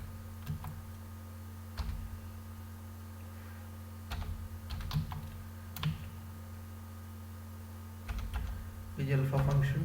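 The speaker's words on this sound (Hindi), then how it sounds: "स्पेलिंग मिस्टेक हुई है, तो फिर से हम इसको टाइप करेंगे" Keys clatter on a computer keyboard in short scattered bursts over a steady electronic hum, a low drone running beneath, and a louder flurry of typing closes the stretch.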